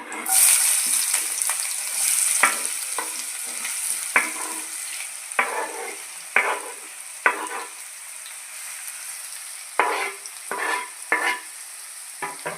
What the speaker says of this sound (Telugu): ఉల్లిపాయలు బాగా ఫ్రై అవ్వాలండి